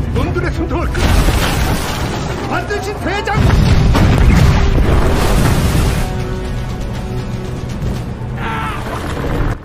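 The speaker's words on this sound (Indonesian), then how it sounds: "Kapten Toyoshima tewas terkena hajaran meriam dari rekan mereka sendiri" Heavy booms of cannon fire in a naval battle between the Joseon navy and a Japanese fleet crash out amid a busy, dramatic soundtrack with voices and clanking, loud and close.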